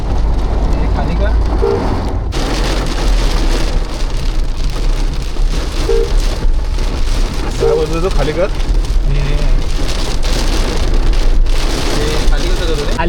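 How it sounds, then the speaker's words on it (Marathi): Heavy monsoon rain pours steadily and loudly onto a car during a road trip near Alibag, a dense continuous roar throughout, while people inside the car talk briefly. "पाऊस बघा किती पडतोय."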